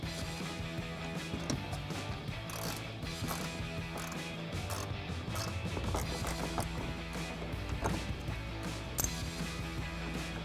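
A 7mm socket ratchet tightens a bolt inside the wheel well of a 2014-2018 GMC Sierra 1500, giving close, steady clicking and mechanical rattling that runs continuously with no speech.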